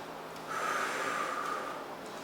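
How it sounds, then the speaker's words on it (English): One slow, deep inhale through the nose, close and breathy, rising and then fading over about a second during a mini trampoline rebounder workout. "Deep breath in."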